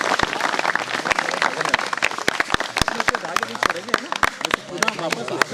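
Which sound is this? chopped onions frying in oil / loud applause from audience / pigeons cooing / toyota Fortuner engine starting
loud applause from audience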